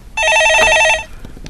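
A telephone bell rings loud and close in a single steady burst of about a second, then stops into near silence.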